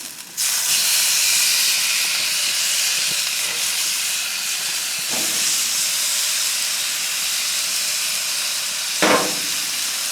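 A pork chop sizzling on a Lodge skillet griddle heated past 400 degrees, right after being flipped with a plastic spatula: a loud, steady, close hiss that continues throughout, with a couple of brief scraping bumps.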